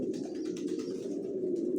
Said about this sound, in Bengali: অনেক পুরাতন লাইনের কবুতর এগুলো।